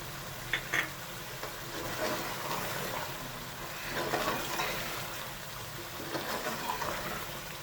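Long, thin slices of ginger fry in a generous amount of oil for degi beef korma, giving a soft, steady sizzle and bubbling with occasional louder spits and pops.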